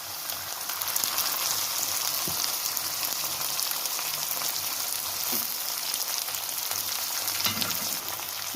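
Onion and tomato fry in a pan for gobi keema, a steady close hiss of oil sizzling throughout with a few faint clinks of stirring.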